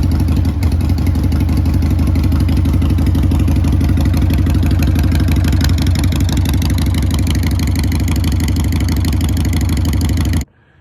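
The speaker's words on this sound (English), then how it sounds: "I love the sound of that loud Harley engine" A loud Harley-Davidson motorcycle engine runs steadily at close range with a deep, throbbing low-end rumble and mechanical clatter, holding even for about ten seconds before cutting off abruptly.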